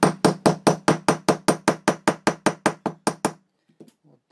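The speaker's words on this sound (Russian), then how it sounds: "можно здесь стукнуть молоточком" A small hammer strikes metal on a Gosshveimashina hand-crank sewing machine in about fifteen quick, evenly spaced taps, loud and close, then stops, followed by a few faint handling clicks.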